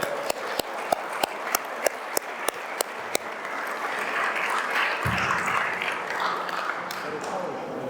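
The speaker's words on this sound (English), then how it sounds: "Let's get a round of applause." Applause at an opening day event for a county sports museum, starting with a few sharp evenly spaced claps, then swelling into a broad wash of crowd clapping with some voices under it.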